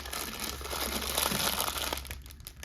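A plastic bag of chocolate eggs being pulled and torn open, with close crinkling and rustling plastic throughout, fairly quiet.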